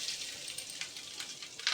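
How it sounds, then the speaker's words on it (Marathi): Fresh grated coconut roasting in a little oil in a pan on a gas stove, giving a soft, steady sizzle with faint crackles and stirring scrapes throughout. "आता हे खोबरं आहे, ओलं खोबरं, ते पहिलं आधी भाजून घ्यायला लागतं."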